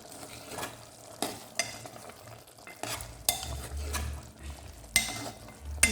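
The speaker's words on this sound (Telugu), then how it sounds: "అలానే సాల్ట్ వేసుకొని ఒకసారి అయితే కలుపుకుందాం." Chicken with turmeric and salt is stirred in a frying pan, a spoon scraping and clinking in repeated strokes over a soft sizzle, close and fairly loud.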